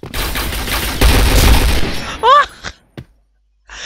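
Gunfire in a shooter video game during wallbang tests through walls, a loud burst of rapid shots followed by a few sharp single reports and a high ricochet-like whine, then quiet.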